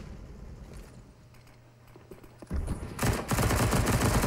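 Heavy gunfire from Counter-Strike: Global Offensive on the Train map, a few scattered shots at first, then from the halfway mark a loud, dense burst of rapid automatic fire in close range.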